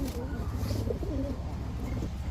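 Golla pigeons coo in low, throaty murmurs amid a busy background, several birds close together, the cooing steady and soft under general ambient noise.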